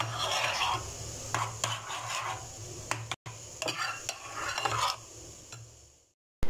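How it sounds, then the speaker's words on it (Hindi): Jalebi frying in a pan of oil, bursts of bubbling sizzle mixed with utensil scrapes and clinks, close and fairly loud, briefly dropping out midway and ending abruptly. "अब हम जलेबी फ्राई करते हैं"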